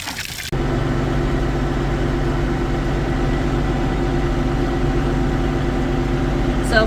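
A tractor engine starts up and then idles steadily, a loud, continuous low rumble with a constant mechanical drone, heard on a homestead in subzero winter temperatures.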